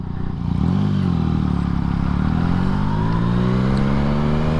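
A Yamaha MT-09 motorcycle on the move, its engine rising steadily in pitch under acceleration and holding loud and close throughout, with no talk over it.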